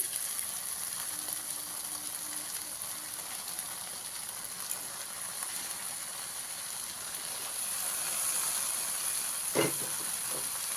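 Red amaranth greens stir-frying with vegetables in a pan, a steady soft sizzle and hiss throughout, with an occasional clink of the stirring utensil.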